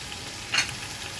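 Onions frying in a pan while cooking khichuri: a faint, steady sizzle with one short, louder burst of hiss that sounds like a quick stir, and no voices.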